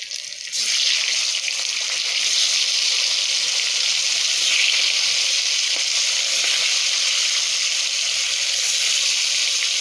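Fish sizzle loudly in hot oil with chili and black cumin, a dense, steady hiss that starts abruptly and holds evenly close by throughout, with a few faint ticks of movement.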